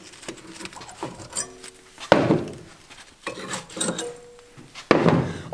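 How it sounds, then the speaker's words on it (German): Brake pads being removed from a Mercedes Vito brake caliper, giving several scraping, rubbing metal sounds and clunks in separate bursts, up close and fairly quiet. "Als nächstes die Bremsbeläge rausnehmen."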